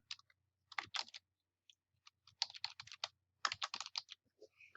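Typing on a computer keyboard, entering a short phrase into a web editor: close, crisp key clicks in quick bursts with brief pauses between words, no talking.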